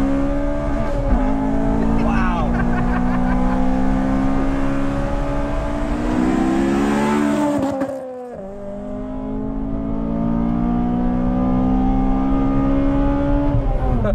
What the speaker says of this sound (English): That revs out so high, man. Just wants to go, doesn't it?